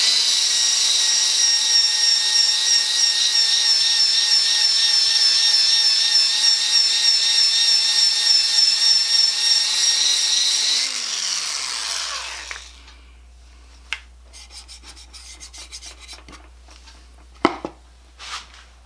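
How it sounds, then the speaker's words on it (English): A loud, steady motor whine from a 1/4-inch electric drill fitted with a sander attachment runs continuously for about eleven seconds, then winds down and stops, leaving quiet room noise and a few faint clicks. "take your little 1/4-inch drill motor and make it into a sander"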